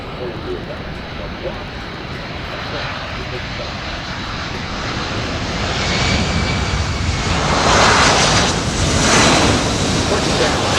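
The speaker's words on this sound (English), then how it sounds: "The demonstration of the very, very short landing distance of the C-17 Globemaster III." A C-17 Globemaster III's engines rumble and hiss steadily, swelling louder toward the end as the aircraft comes in for a short landing at an airshow, with a voice talking over the noise.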